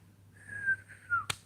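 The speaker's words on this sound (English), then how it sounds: "sorry about the whistling" Two drawn-out whistled tones, one rising and falling, sound close and fairly soft over a low steady hum, ending in a sharp click.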